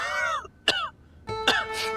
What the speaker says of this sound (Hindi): खांसी तो आपकी ठीक हो नहीं रही है